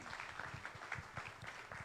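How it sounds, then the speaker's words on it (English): Applause from an audience at a community disaster recovery meeting in a Lahaina school setting, a modest patter of claps lasting a couple of seconds, fairly quiet and roomy. "So you can give yourself a round of applause."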